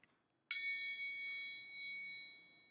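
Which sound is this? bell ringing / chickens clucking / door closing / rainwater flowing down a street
bell ringing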